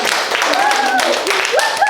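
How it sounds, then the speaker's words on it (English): Applause at a children's public speech contest, steady clapping throughout with a voice speaking over it. "put hands together for Annie the Awesome"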